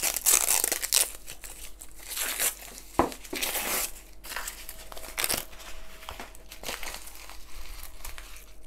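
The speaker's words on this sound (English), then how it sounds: "to see me get this goddamn paper off here." Wrapping paper being torn and crinkled off a beer bottle up close, in irregular crackling rips and rustles that stop and start over several seconds.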